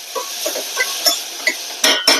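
Onion and tomato being sautéed with salt and turmeric in a pan, a soft sizzle under light clinks of a spoon against the vessel, ending with two sharper metallic taps.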